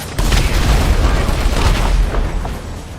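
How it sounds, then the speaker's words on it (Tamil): A vehicle explodes in GTA 5 Online, a deep booming blast that rumbles on loudly for a few seconds with crackling debris, while players talk over it. "வண்டி வெடிச்சிச்சுன்னு நினைக்கிறேன்."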